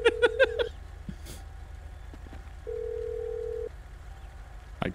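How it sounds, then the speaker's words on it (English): In a video game, a phone ringback tone plays: a short series of quick beeps at the start, then a single steady electronic tone held for about a second, faint and isolated over low background rumble. "It's ringing."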